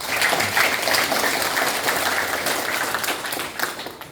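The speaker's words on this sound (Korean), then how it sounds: "다시 한번 큰 박수 보내주십시오" Audience applause at a Korean local government gathering on mine-closure communities, a broad sustained patter of many clapping hands at moderate level, steady for several seconds and tapering slightly at the end.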